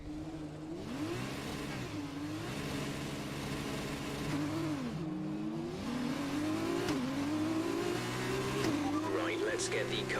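F1 car in the F1 2020 video game on a formation lap at Britain, a high engine note rising and falling through gear changes, with a voice talking over it.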